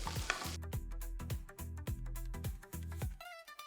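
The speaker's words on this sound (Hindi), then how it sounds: "अब इसमें डालेंगे प्याज और 3-4 मिनट तक भूनिए।" Onions sautéing in a pan after garlic, with a rhythmic run of stirring strokes and a soft sizzle beneath, ending in a brief higher-pitched clink.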